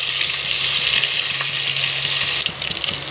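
Eggs fry in a hot pan with oil while being turned, giving a dense, steady sizzle throughout, close and loud, with a slight change in texture near the end.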